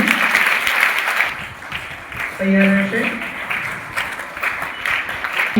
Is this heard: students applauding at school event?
yes